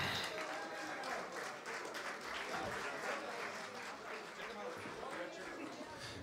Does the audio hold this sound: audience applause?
yes